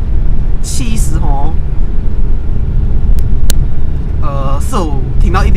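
Inside a 2002 Perodua Kancil 850cc at about 70 km/h, a constant low rumble of wind and road and tyre noise fills the cabin, while a person talks over it at intervals.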